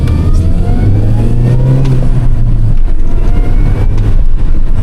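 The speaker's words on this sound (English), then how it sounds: "This is such a fun car to drive." A Mini Cooper S engine revs and accelerates loudly from inside the car, pitch rising and shifting as it drives, with a constant rumbling roar.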